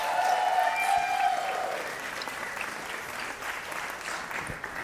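Applause from guests at a Friday night wedding rehearsal dinner, a dense round of clapping that starts full, briefly overlaps a fading voice, and gradually thins out over about five seconds.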